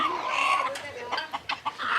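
Farm chickens cluck in a quick run of close, fairly loud calls with short sharp accents near the end, and no talking.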